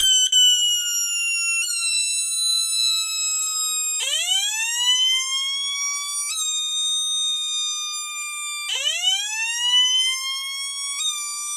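An electronic cicada simulator kit running on a 5-volt battery box gives a steady, loud siren-like tone that sweeps upward and repeats in regular cycles about every five seconds, heard alone without voices.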